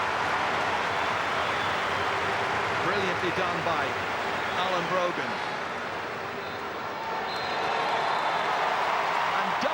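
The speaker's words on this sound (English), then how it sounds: "And listen to the cheer." A stadium crowd at the 2015 Leinster Gaelic football final between Dublin and Westmeath roars steadily after a Dublin score, a broad, sustained wall of cheering while a commentator talks over it.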